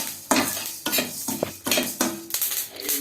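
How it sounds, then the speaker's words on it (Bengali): Flaxseeds crackle and pop while dry roasting in a pan over low heat, with repeated scraping stirs in a steady rhythm, close and fairly loud. "এটা দেখুন চটচট আওয়াজ হচ্ছে, তার মানে এটা ভাজা হয়ে গেছে"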